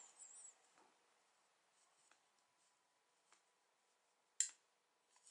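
A CEWAL RQ01 room thermostat gives a single sharp, brief click as its dial is turned to the switching point, standing alone against a quiet indoor background with faint ticks before it.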